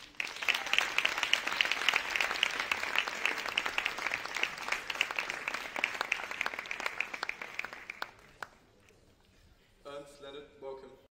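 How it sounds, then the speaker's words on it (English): Warm audience applause greets speakers walking on stage at an Extinction Rebellion debate, dense and steady for about eight seconds before fading, followed by a brief voice over the thinning claps. "To welcome them on stage, please give them a warm round of applause."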